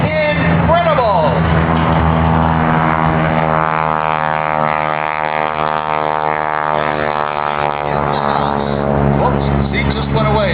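Propeller stunt plane flying inverted at a West Virginia air show with a wing walker aboard, a loud, steady engine drone with shifting pitch heard throughout as an announcer talks over it.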